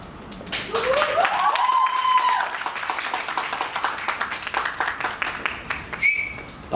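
Audience applause at a press conference for Mitegi Lakshman Rekha, a dense burst of clapping that swells early, then thins into scattered claps, with a brief tone sounding near the end.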